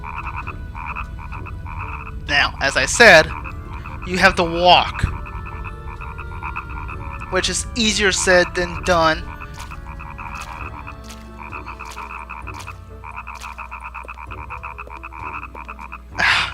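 Frogs in the video game Nightmare Before Christmas: Oogie's Revenge croak in repeated bursts at about 2–5 and 7–9 seconds, over a steady game music loop, with someone talking through parts of it.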